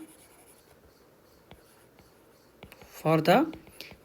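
Faint scratches and light taps come from writing an account heading on a board in a classroom, quiet and intermittent, until a voice briefly speaks over them.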